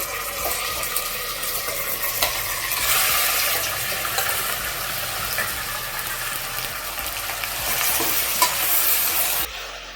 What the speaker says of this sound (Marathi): त्याच्यामध्ये आपण मटण परतून घेऊया